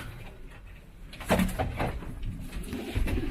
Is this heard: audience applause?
no